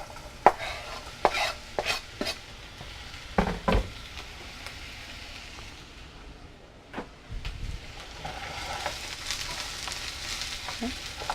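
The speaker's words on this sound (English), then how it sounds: "We're just going to saute these until they are translucent and tender" Medium onion sautéing in oil for Indian dal, a steady sizzle broken by several sharp stirring and scraping knocks early on, then a softer continuous fry with a few more clatters, no talk.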